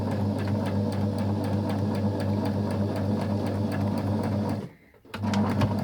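A sewing machine stitches a shamrock pin cushion in a steady, close, rapid mechanical whir, pausing briefly near the end before it starts running again.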